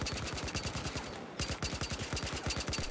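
A heavy machine gun fires in Battlefield Hardline multiplayer, a fast, regular stream of loud punchy shots, one short gap after about a second, then continuous hammering again.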